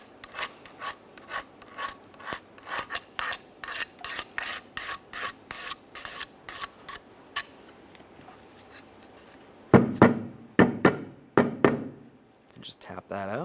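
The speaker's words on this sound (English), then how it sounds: "First, we'll use a flat blade razor, give it a quick scraping, ensuring there's no debris," Flat blade razor scraping an intake manifold mating surface on a 2007-2013 Acura MDX 3.7L V6, heard as a steady series of short, rhythmic rasping strokes up close, then a few heavier scrapes near the end.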